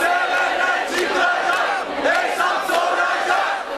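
Theatre audience at Levent Kırca's play in Maltepe chanting slogans in unison, loud rhythmic crowd shouts rising and falling in repeated bursts over about four seconds.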